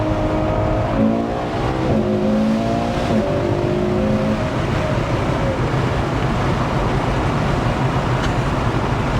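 A Ferrari 812 GTS's naturally aspirated engine accelerates hard in a loud, continuous rising roar with climbing harmonic tones that fade into a broad rushing wind and road noise.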